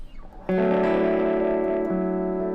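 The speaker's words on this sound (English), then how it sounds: "let just a little bit of fuzz come over our tone" A fuzzy, distorted electric guitar chord through an EarthQuaker Devices Hoof Reaper pedal rings out and sustains, with a slight change in the notes partway through.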